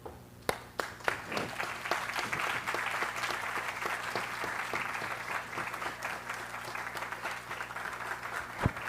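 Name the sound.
audience applauding students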